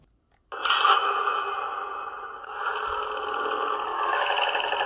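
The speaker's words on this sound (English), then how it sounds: "A couple of different boot up sounds. That's one of them." Boot-up sound from an Assassin's Creed Black Flag lightsaber with a Proffie 2.2 soundboard, a sudden bright metallic ring after a brief silence that sustains as a shimmering hum, shifting tone midway and holding steady to the end.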